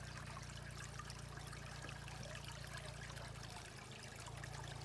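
Water trickles steadily into a street storm drain, a faint continuous wash over a low hum, with no voices.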